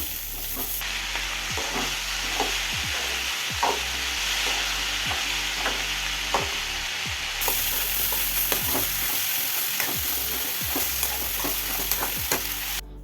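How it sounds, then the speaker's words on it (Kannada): Onion, tomato and boiled chickpeas fry in a pan of tempering for a Malnad-style palya, a steady close sizzle broken by repeated scraping stirs at a regular rhythm, with no talking. "ಇದು ಒಗ್ಗರಣೆಗೆ ಈರುಳ್ಳಿ ಮತ್ತು ಟೊಮೊಟೊ ಮತ್ತು ಬೇಯಿಸ್ಕೊಂಡಿರೋ ಅಂಥ ಕಡಲೆಕಾಳು ಕಡಲೆಕಾಳನ್ನ ಹಾಕಿದರೆ ಚೆನ್ನಾಗೇ ಇದು"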